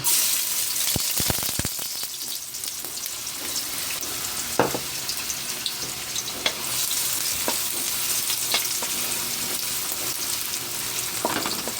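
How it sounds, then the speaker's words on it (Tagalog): Garlic sautés in a hot pan, a continuous close sizzle with a burst of sharp clacks early on, then occasional scraping stirs and utensil knocks spaced through the rest. "Ayan, magigisa na naman tayo mga lods. Ayan, ating bawang."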